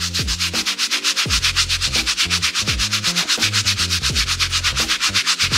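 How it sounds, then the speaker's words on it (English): A scrubbing brush works stain remover solution into a sneaker in circular strokes, a steady rhythmic rubbing, close and continuous, with no talk over it. "we're gonna start scrubbing in a circular motion"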